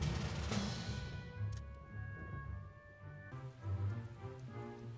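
Rain patters steadily in the First World War strategy game The Great War: Western Front, a dense even hiss mixed with low rumbling tones, with no one speaking.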